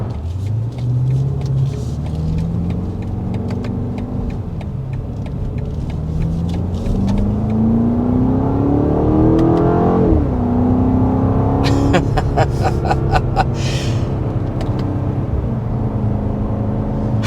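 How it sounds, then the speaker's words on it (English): A 2024 BMW X5 M Competition's 617-horsepower V8 rumbles loudly as it accelerates through rising gears with a brief shift dip, then drops back to a deep burble with sharp pops and crackles on the overrun. "Gotta love the sound of a V8."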